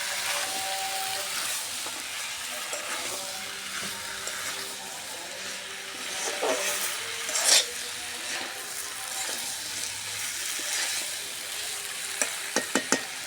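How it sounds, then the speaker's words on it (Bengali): Potatoes, jackfruit seeds and pointed gourd fry in a pan for a vegetarian curry, a steady sizzle with stirring scrapes and a few sharp knocks of a utensil near the end, no speech. "এর ভিতর আলু আছে, কাঁঠালের বিচি, পটল দিয়ে বড়া দিয়ে একটা নিরামিষ ঝোল রান্না করবো। এটা সুন্দর করে কষে নেবো আগে।"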